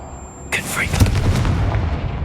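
A Confringo blasting spell fires in the video game Hogwarts Legacy, a crackling burst followed by a booming explosion that rumbles on for over a second.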